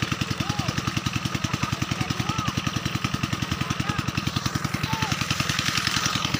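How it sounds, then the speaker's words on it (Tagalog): An irrigation pump engine runs steadily beside a corn field, a fast even mechanical chugging that stays loud and constant throughout, with faint faraway voices and occasional chirps in the background. "Andun yung makina ko sa dulo."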